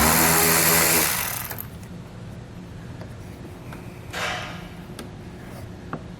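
An 8mm socket loosens a bolt on a 2013 BMW X5 during a trailer hitch install: one loud, dense burst of power-driven whirring for about a second, then a quiet background with a few faint clicks.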